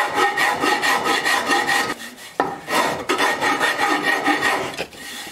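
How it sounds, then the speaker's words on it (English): A wood rasp files the wooden body of a custom guitar in quick repeated back-and-forth strokes, a close, dry scraping rhythm with brief pauses between runs. "For the most part, I use the round side of the rasp."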